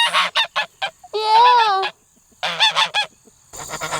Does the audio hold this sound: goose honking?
yes